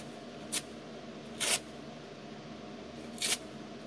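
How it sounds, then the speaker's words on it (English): Paper napkins are torn in three short, crisp rips, each a quick papery burst with quiet pauses between. "Give me just a second to rip up a couple more napkins"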